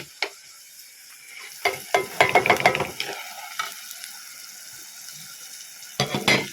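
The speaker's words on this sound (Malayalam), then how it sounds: "അപ്പോൾ ഇതൊന്ന് എണ്ണയിലൊന്ന് മൂത്ത് സെറ്റായി വരട്ടെ" Coriander, chilli and turmeric powders frying in hot oil in a pan, a soft continuous sizzle broken by scraping stirs and a clustered burst of clinks around the middle, close and moderately loud, no voices.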